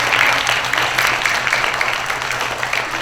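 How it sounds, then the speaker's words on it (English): Steady, dense clapping from a school audience fills the whole stretch, a round of applause for a student of the month, with faint voices underneath. "So let's give Riaz a round of applause."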